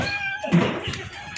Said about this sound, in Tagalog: Hikot mga pusa.